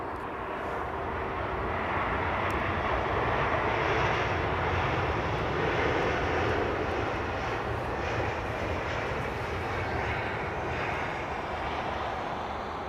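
Jet airliner departing runway 27R, a sustained loud roaring engine rumble heard from outdoors, holding steady across the whole stretch without voices.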